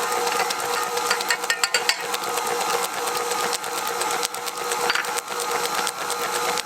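A mixer machine kneading pizza dough runs with a continuous mechanical whir and rattle, with irregular knocks and clicks as the dough turns in the bowl, loud and close throughout.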